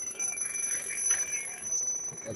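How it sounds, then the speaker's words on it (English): Low air alarm on a firefighter's breathing pack at an Alachua County competition, a steady high electronic chirping tone running continuously at moderate distance over background noise. "That's the second low air alarm"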